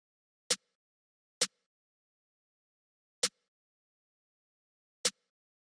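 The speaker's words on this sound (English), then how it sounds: "Then I add a snare." Four isolated snare hits from a trap drum beat, played alone at uneven intervals, each a sharp crisp crack with a short bright tail.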